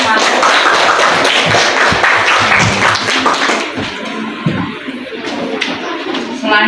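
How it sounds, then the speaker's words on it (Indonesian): Classroom applause at a vocational high school after a student group finishes presenting, a dense burst of many hands clapping that thins out partway through. "Tepuk tangan buat kelompok"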